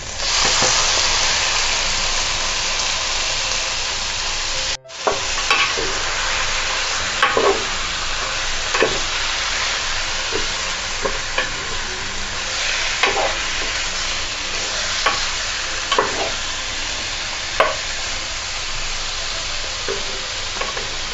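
Chicken stirred and sautéed with garlic in a pan, a steady close sizzle running throughout with repeated scraping stirs and clinks of the utensil, no talking.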